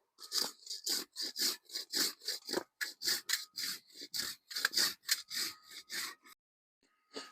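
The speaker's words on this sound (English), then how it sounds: "I'm going to go ahead and scrape down some sawdust off of this wood here." A knife blade scrapes sawdust off a piece of wood in a steady series of about twenty quick, close rasping strokes, which stop near the end and leave quiet.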